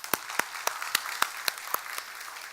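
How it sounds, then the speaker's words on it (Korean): A church congregation in a Korean baptism service claps in a steady, evenly spaced rhythm, crisp distinct claps at a moderate distance and fairly quiet, with no talk over them. "아름다운 간증을 해준 우리 이은지, 우리 주상석, 우리 성도님 축복과 감사의 박수를 하겠습니다."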